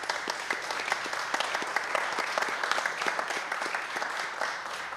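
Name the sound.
audience applauding guests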